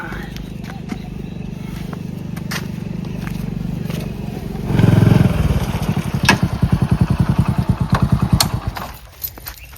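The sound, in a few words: motorcycle engine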